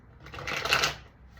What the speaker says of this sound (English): I'm going to shuffle live.